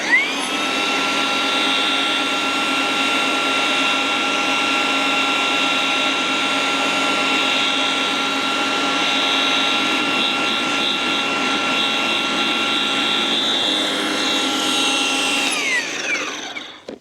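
An EGO electric lawn dethatcher runs steadily on a lawn for about sixteen seconds, a loud, even motorised whine with a constant pitch that starts abruptly and winds down at the end, with no talking.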